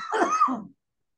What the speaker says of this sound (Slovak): niekto nám tu kašle